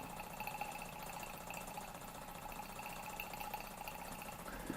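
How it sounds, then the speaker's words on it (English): A 1946 Mamod SE2 model steam engine, a small brass toy engine, runs steadily at pressure with a continuous, even mechanical chatter and a faint high whine, close by and alone. "little Mamod engine running sweet as a nut."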